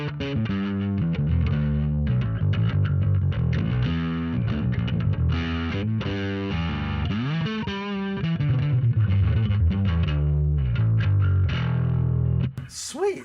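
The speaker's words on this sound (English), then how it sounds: "And then this adds a little bit more dirt." Bass guitar on a Fractal FM3 preset with added distortion plays a continuous, gritty line of notes and slides, loud and close, with the playing cutting off just before the end.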